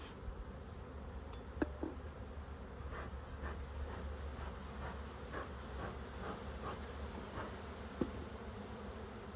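Honey bees buzz in a steady, faint drone during a hive inspection, with a couple of sharp clinks of equipment standing out.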